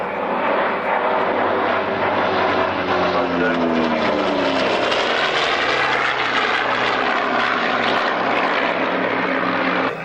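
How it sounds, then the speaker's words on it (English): Aerobatic Yak or Sukhoi propeller plane flying a display at the 1998 Woodford Airshow, its loud, steady engine roar droning and shifting pitch as it passes, with no talk over it. "it has to be a combat aircraft"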